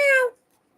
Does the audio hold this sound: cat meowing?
yes